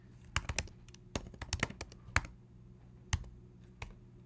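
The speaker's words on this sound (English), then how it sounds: "Let me type his name in." Keys clack on a computer keyboard as a name is typed, a burst of irregular taps followed by a few scattered single presses, close and fairly quiet with no talking.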